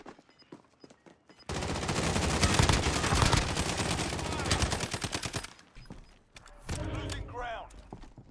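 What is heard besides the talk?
gunfire from multiple players in Warzone video game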